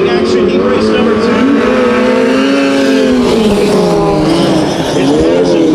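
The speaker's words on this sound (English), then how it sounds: "8 laps of racing action, heat race number 2" Race cars roar together through an eight-lap heat race, engines droning loud and steady with rising and falling pitch, while a commentator talks over the noise.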